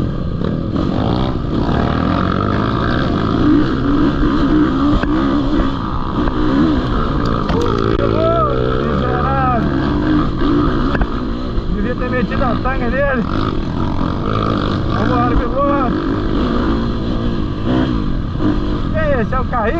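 A dirt bike engine, a KTM 350 SXF or Yamaha YZ450F, drones and revs loudly while riding a trail, continuous throughout, with a rider talking over it.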